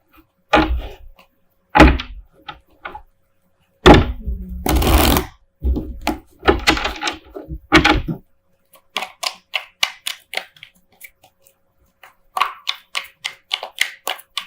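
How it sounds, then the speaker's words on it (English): Tarot cards are shuffled in repeated bursts, crisp riffling and bridging sounds close by, with pauses between rounds and no talking. "while I'm shuffling"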